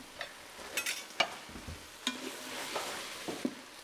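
Ingredients sautéing in a Ninja Foodi pot for turkey tetrazzini, with a low sizzle and intermittent scraping, clacking stirs of a utensil against the pot, close and clear.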